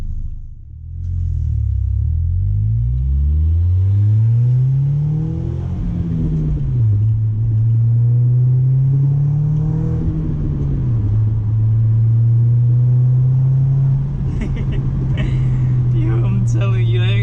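A Stage 1+ B6 Audi A4 1.8T engine pulls hard from low revs, its deep, loud growl climbing in pitch, dipping at gear changes and climbing again, with someone speaking over it.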